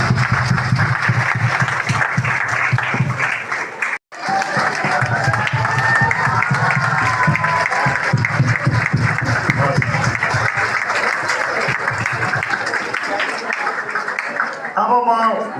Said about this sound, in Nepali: हामी ताली बजाइदिउँ जोडदार।